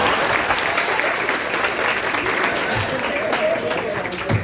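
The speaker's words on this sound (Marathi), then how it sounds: "टाळ्या वाजवायला हरकत नाही." Steady, loud applause from a large audience at a farewell function for tenth-grade students fills the whole stretch, many hands clapping in an unbroken roar with faint voices beneath.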